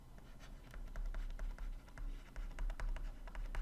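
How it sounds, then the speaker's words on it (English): A pen or pencil scratches quickly across paper while notes are written down, making close, soft scratchy strokes in an uneven, continuous rhythm over a low background rumble. "Let me just write these down."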